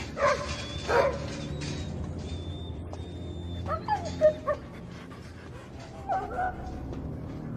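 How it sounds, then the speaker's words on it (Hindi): Fighting dogs yip, whimper and give short barks in a cluster of sharp bursts, fairly close, over a hum of background noise, with a voice speaking in places. "ये सभी लड़ाकू कुत्ते हैं।"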